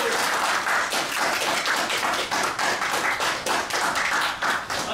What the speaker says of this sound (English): Let's finish with a big applause for everyone.